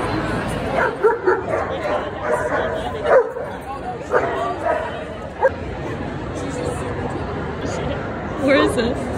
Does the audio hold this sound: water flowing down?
no